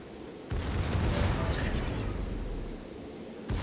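Secondary guns of the battleship Georgia banging away in World of Warships, dense overlapping booming bursts rolling continuously at close, fairly loud level with no speech over them.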